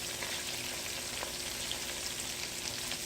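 Steady, dense sizzling of chicken gizzards frying in a hot pan, a continuous crackle with small pops throughout and no voices.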